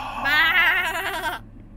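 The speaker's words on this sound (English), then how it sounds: "It's a goat." A baby goat gives one close, clear bleat that wavers for about a second, then stops, with no talk over it.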